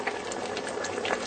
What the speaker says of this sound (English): Mix slowly because it will definitely splutter.